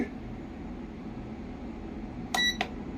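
An induction cooktop switching on at 1300 watts gives two short electronic beeps in quick succession over a steady low background hum.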